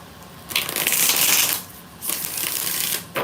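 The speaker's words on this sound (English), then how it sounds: "3 more shuffles." Tarot cards are shuffled in two crisp riffle bursts, each a loud flurry of flicking card edges lasting about a second, followed by a short snap at the end, with no talking.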